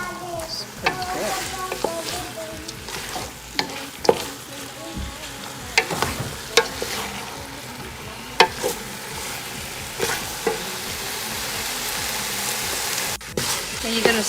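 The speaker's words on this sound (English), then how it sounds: "you're gonna stir your fish and your meat together" Fish and meat stir together in a pan for Khmer kar mam, giving a continuous close sizzle of frying broken by frequent scraping and tapping of the utensil against the pan.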